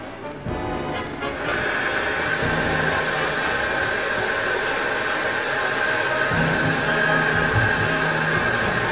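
A hair dryer blowing on pigment weathering on a desert diorama, switched on after a second and then running as a loud, steady whooshing hiss with a constant motor whine throughout.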